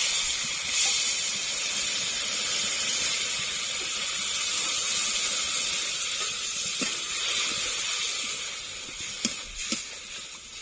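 Spice paste rinse water of ginger, cumin and dried red chilli hits a hot pan for Bengali rui fish curry, giving a steady faint hiss and sizzle with a few small clicks near the end.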